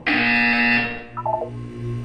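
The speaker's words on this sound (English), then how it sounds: "When you hear the buzzer, look down at the floor." A loud electronic buzzer in the video game Portal 2 blares for under a second, then a short descending beep sequence and low tones follow; no voices.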